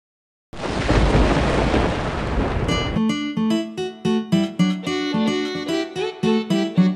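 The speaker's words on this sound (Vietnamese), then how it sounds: "Nó là tiếng sấm sét." A loud rumbling thunderclap in a children's song animation about farm animals, a dense roar for about two and a half seconds that gives way to a bright, plucky musical phrase with a steady bouncing rhythm.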